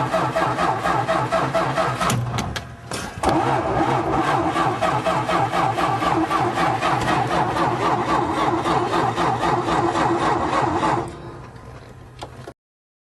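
A flooded car engine cranks slowly and repeatedly without catching, a steady labored churning rhythm that runs loud for about eleven seconds before dropping away, with a brief interruption near the start.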